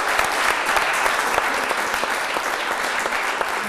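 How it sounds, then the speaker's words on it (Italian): Dense, steady applause from a studio audience at the close of an Italian live television talk show, loud and continuous throughout with no voices over it. "Chiedo un applauso per i nostri ospiti studio."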